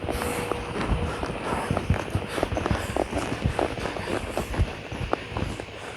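A tired mare loping in a circle, her hoofbeats a steady, fairly close three-beat clip-clop repeating throughout with faint background noise.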